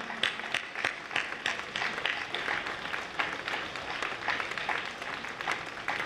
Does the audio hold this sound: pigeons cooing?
no